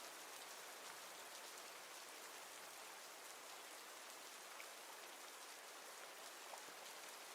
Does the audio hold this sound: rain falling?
yes